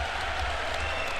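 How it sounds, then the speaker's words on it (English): Applause at a Trump congressional address, a dense steady wash of clapping from a large chamber crowd, filling the whole short moment without pause. "Clap, clap, clap, clap, clap."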